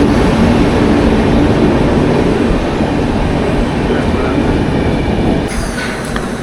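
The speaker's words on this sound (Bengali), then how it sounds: "संख्या 18422 सोनपुर पूरी एक्सप्रेस प्लेटफॉर्म नंबर 2 पर आ रही है।" A Sonpur–Puri Express train rolls into platform 2 at a railway station, a loud steady rumble of wheels and carriages throughout, with a brief squeal near the end.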